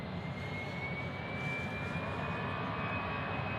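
American Airlines Airbus A319 jet at Nashville International Airport, a steady distant engine drone with a thin high whine gliding slowly upward, no talking.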